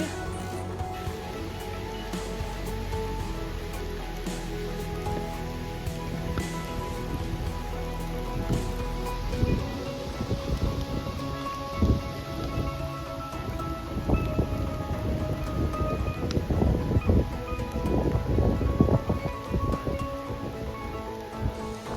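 Steady rain falls near the Munavalli dam, pattering on surfaces while low thunder rumbles roll through. The downpour grows louder and more crackling toward the end, and no one speaks.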